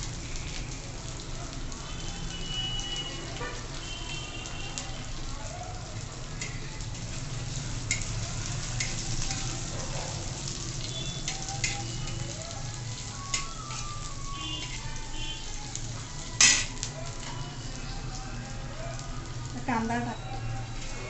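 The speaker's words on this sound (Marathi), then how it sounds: "आता त्यात हिरवी मिरचीचे तुकडे टाकते" Green chilli pieces sizzle and crackle steadily in a pan for tawa pulao, a continuous frying hiss with occasional stirring scrapes and one sharper clatter near the end.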